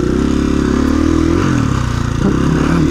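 A KTM 350 EXC-F dual-sport dirt bike climbs a rocky hill, its single-cylinder engine chugging loud and close at low gear with a steady, throbbing rhythm and small dips in pitch.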